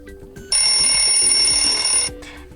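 A Xiaomi Mi 11 Ultra phone ringtone in the style of an alarm clock: a loud, steady electronic ringing tone that cuts in sharply, holds for about a second and a half, then stops.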